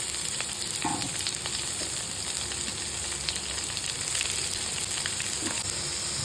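Chopped onions sautéing in a pan for tea-stall style chinthamani, a constant dense sizzle close by, steady throughout with a few faint stirring knocks and no talking.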